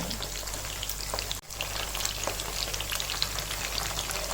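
Chicken 65 pieces crackle and sizzle steadily in hot oil after being flipped, a dense close frying hiss with a brief dip in the middle, no voices.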